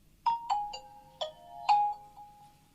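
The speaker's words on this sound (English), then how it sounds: "turn off the feature phone by unlocking it and then pressing the power button and holding it" A Nokia 110 4G feature phone plays its power-off tune: a short series of clear, bright electronic chime notes in a descending pattern, fairly close and alone.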